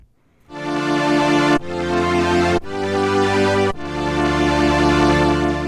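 ARP Omni-2 string synthesizer chord sustaining, then abruptly cutting off and swelling back in with a fresh attack several times, rich bright string-ensemble tone, loud and steady with no voices.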